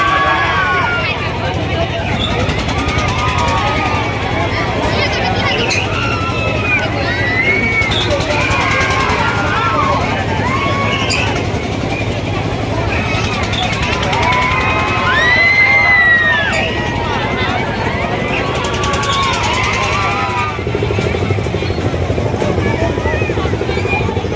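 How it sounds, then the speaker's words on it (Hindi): A large, dense festival crowd at Bargarh on the last Monday of the fair makes a constant loud hubbub, with overlapping voices, children shouting and scattered cheers under a steady rumbling background. "गाइस भीड़ भीड़ बड़गढ़ के भीड़"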